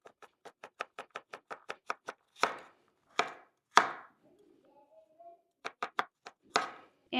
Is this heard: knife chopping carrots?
yes